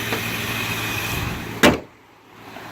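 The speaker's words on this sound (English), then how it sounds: "let me close the hood so you guys get a good look at it with the hood down." A single solid thump as the hood of a 2003 Ford Mustang GT in Zinc Yellow slams shut, cutting through a steady outdoor hum and leaving a quieter background after.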